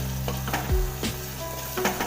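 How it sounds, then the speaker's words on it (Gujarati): Valor (flat bean) vegetable being stirred in a pan with lemon juice, salt and chutney powder, giving a soft sizzle with a few distinct scraping spoon strokes, close and steady over about two seconds. "પાછું એને સારી રીતના હલાવી લઈશું."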